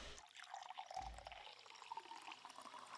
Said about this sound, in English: Fill you up for water.